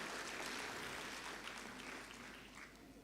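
Audience applause at a valedictory session of the NERC-2022 and ABC-2022 event, a dense, steady clapping from a large crowd that holds loud throughout and eases slightly toward the end.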